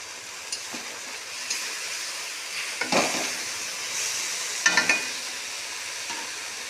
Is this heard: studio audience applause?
no